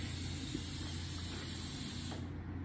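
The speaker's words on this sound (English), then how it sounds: "Hear the bags letting out air." Air-bag helper springs on a vehicle deflating from a wireless controller, a steady broadband hiss of air escaping for about two seconds before it cuts off abruptly, leaving faint background noise.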